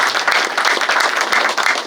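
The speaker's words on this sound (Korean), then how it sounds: "시장님께 박수를 한 번 부탁드리고" An audience at a community self-governance council inauguration ceremony applauds for the mayor, a loud, dense burst of many hands clapping together, close and steady throughout.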